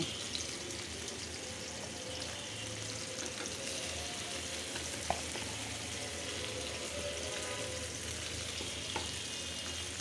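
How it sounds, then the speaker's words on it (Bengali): Sea fish (phasa) fry in a pan for a vegetable khichuri meal, a steady, moderately quiet sizzle with occasional small crackles and pops and no talk. "এখন ঢেকে দেব মাছগুলি ভাজব খিচুড়িদের খাওয়ার জন্য"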